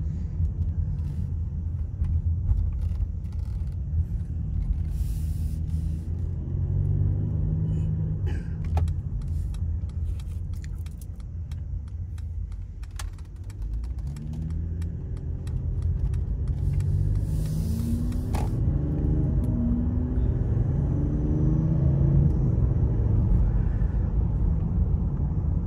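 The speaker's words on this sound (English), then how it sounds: "This car drives great." A 2021 Mercedes GLE450 with AMG package on the road, giving a steady low engine and tyre rumble from inside the cabin, continuous and fairly loud with slight swells, and no talking.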